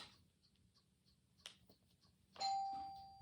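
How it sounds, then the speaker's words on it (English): A doorbell rung by a mailman sounds a single clear electronic tone that rings and sustains to the end, after quiet ticking and faint rustling in a calm indoor room. "that's my mailman. It just rings the bell to let me know there's a package out there"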